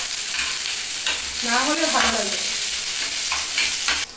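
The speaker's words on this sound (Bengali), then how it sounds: "এখানে আমার পেঁয়াজ আর রসুনটাকে একটু লাল করে ভাজা হবে" Onion and garlic fry in a pan, browning as a spatula stirs them, with a constant close sizzle and scraping strokes. A voice briefly talks over the cooking.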